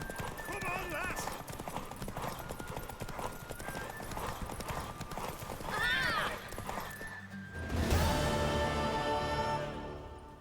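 Hooves clip-clop at a fast gallop from a mare racing in The Witcher 3 game, a steady drumming rhythm under music and lively voices, with a neigh and a louder burst near the end.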